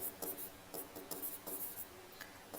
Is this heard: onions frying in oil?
no